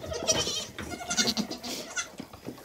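Goats bleating repeatedly at close range, several overlapping cries in quick succession, loud and nasal, with no talk over them.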